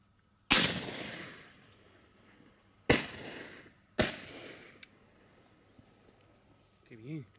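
Shotgun blasts during a thrush hunt: one loud sharp report near the start, then two more a couple of seconds apart, each with a short echoing tail, followed by quieter outdoor sound and a faint warbling at the end.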